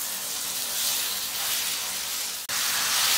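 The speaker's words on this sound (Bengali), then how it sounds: "বেগুন গুলা প্রায় সিদ্ধ হয়ে আসলে কাছাকাছি আমি এর মধ্যে ক্যাপসিকাম গুলা দিয়ে দিব, দিয়ে এর সাথে একটু নেড়ে চেড়ে ভেজে নিব।" Eggplant and capsicum fry in a hot pan for an Arabian-style egg and eggplant snack, a loud continuous sizzling hiss close up, broken by one brief sharp dropout near the end.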